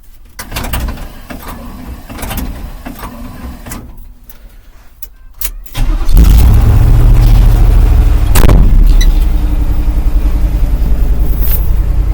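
A truck engine starts and idles loudly and steadily after a few seconds of quieter rumbling and clunks, close by.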